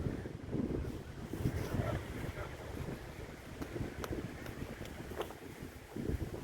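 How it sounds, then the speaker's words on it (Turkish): Strong wind buffeting the microphone on a sandy beach, a continuous low rumbling roar with gusty swells and no clear pauses. "Arkadaşlar çok rüzgar esiyor."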